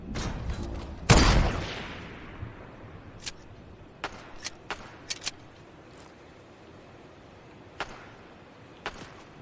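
Gunfire in the video game Fortnite, a loud burst of shots near the start followed by scattered sharp single cracks, some distant, in a sparse rhythm under quiet game ambience.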